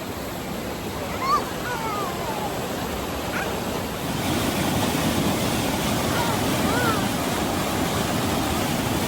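Smalley Falls, a waterfall in Upper Michigan, heard from a rock mid-falls as a constant close rushing roar that swells louder partway through, with faint voices barely above it.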